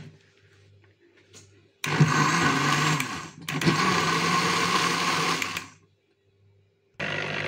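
Electric hand mixer beating a homemade luncheon meat mixture with starch and flour, running loud and steady in two long bursts with a brief pause between them, then stopping and starting up again.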